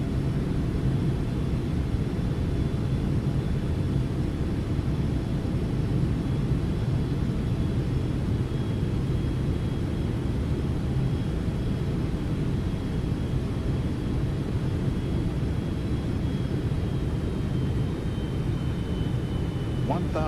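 Boeing 777-200ER engines in X-Plane 12 winding down after the throttles are pulled back, a steady, loud, broadband jet roar heard continuously with a faint falling whine near the end.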